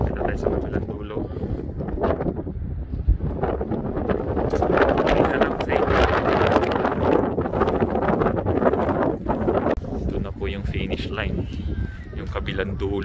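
Strong wind on the Walkway over the Hudson in Hudson, New York buffets the microphone in a constant roaring rush, loud and close, with faint rustling underneath throughout.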